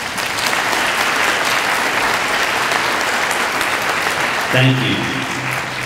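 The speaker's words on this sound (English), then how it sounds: "this is your chance to get some applause" Steady applause from an audience at a community college scholarship awards ceremony, honoring standing donors; loud continuous clapping, with a short spoken thank-you near the end.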